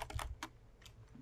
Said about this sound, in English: Dude, this keyboard is so hard to type with.